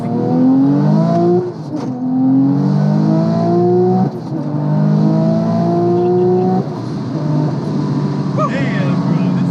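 A Porsche 911 Turbo AWD with 1200HP and a manual gearbox revs hard under acceleration, pulling through three loud rising engine sweeps with short dips at each gear change.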